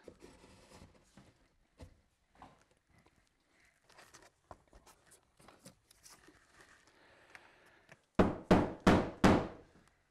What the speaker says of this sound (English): We're just going to stick these into the wall, hammer them in